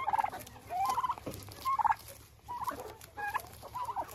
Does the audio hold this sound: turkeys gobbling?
yes